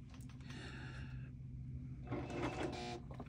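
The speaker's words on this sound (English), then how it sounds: "Hopefully my sewing machine will cooperate." A sewing machine runs in short bursts, a quiet mechanical whir with rapid stitching rattles, pausing briefly before starting up again close by.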